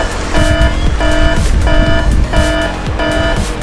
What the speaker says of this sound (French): l'alarme elle a sonné depuis tout à l'heure